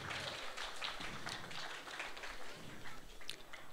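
Crowd applause for the cosplay contest winner at a spring fantasy expo's main stage, dense continuous clapping filling the space at steady volume, with a few sharper claps standing out near the end.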